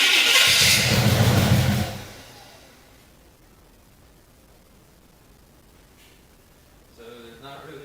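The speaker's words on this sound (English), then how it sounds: "I'm gonna try to get it started with it just sitting here and cranking inside the cab" A 1971 Chevy C10's engine cranks with a loud, dense churning burst for about two seconds, then drops to near silence before faint rustling and a short spoken phrase near the end.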